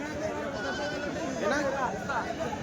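Male goats bleat at a busy livestock market, several wavering cries rising over a crowd's chatter, while someone talks nearby.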